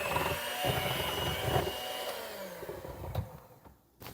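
An electric mixer whirs steadily through pumpkin cake batter, a faint continuous motor drone with a few soft knocks against the bowl before it cuts off.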